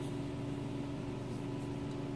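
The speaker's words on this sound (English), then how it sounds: "And excuse the furnace noise." Furnace running in a cold garage, giving a faint, steady low hum and whir that stays constant throughout with no other sounds.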